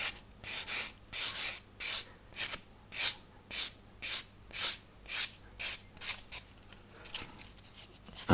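Rhythmic rasping strokes of a file smoothing a nub off a plastic part of a 1/200 Scharnhorst battleship model, about fourteen short even passes, close and soft.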